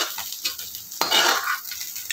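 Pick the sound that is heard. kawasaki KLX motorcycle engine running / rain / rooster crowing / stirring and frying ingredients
stirring and frying ingredients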